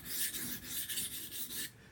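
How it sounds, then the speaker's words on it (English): A kitchen knife is drawn across a sharpening stone at about 16 to 17 degrees, producing a quiet, rhythmic series of gritty scraping strokes, roughly six in quick succession, with no talking. "Let's just say I'm sharpening this about 16 or 17 degrees. And then I'm going to do this until I form the burr."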